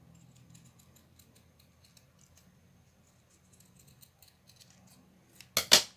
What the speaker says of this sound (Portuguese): A tesoura que você usa para cortar fita, não use para cortar Outra coisa